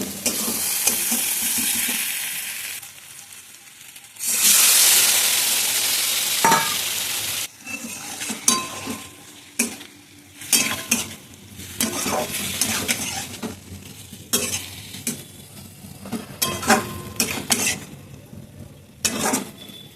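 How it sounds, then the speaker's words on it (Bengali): Bombay duck (loitta) fish sizzling in a pan of browned spices, with a loud burst of frying around the midpoint followed by intermittent stirring and clattering of utensils against the pan. "এরপরে এর মধ্যে আমি মাছগুলো দিয়ে দেবো।"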